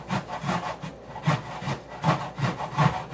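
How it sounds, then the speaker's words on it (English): Fresh ginger root rubbed against a grater in rhythmic back-and-forth strokes, a close, steady rasping that pulses several times with no talk. "So you can grind this down."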